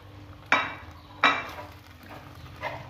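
A spoon scrapes and clinks against a pot while pastilla filling ingredients are stirred together, two sharp metallic knocks followed by a fainter one over a low background hum, with no voices.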